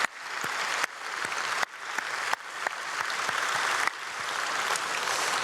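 A church congregation claps together at a dawn prayer service to greet visiting presbytery leaders. The applause is a fairly soft, even patter, broken by a few abrupt cuts.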